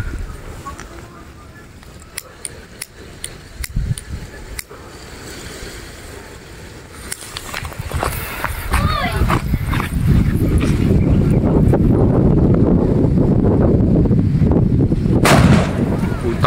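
Test firing of a firecracker from an OG Workz stash: scattered sharp pops at first, then a heavy rumbling burst of blasts building to a loud sustained roar, with excited voices shouting throughout.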